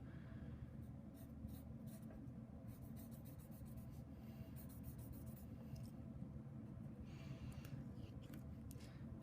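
Pencil sketching graffiti letters lightly on paper, a soft continuous scratching and rubbing of graphite that runs steadily throughout, close and quiet.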